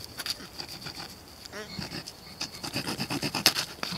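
A Spyderco Matriarch 2 serrated knife saws through small dead wood in short rasping strokes, faint at first and then quicker and louder in a rhythmic back-and-forth, with some soft speech mixed in.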